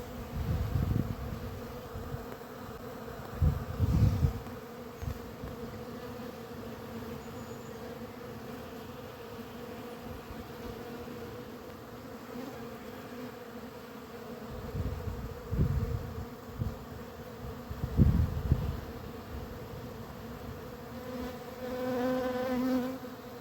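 Honeybees buzz steadily around the hives in early spring sunshine, a dense drone with individual insects swelling louder as they fly past close by, no talking.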